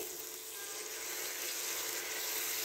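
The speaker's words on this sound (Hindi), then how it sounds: "अब हम यहाँ पर 1 अदद टमाटर ऐड करेंगे" A soft, steady sizzle rises from a pan of frying onion and garlic-ginger paste as tomato goes in for a Punjabi-style mixed dal, a faint even hiss with no talking.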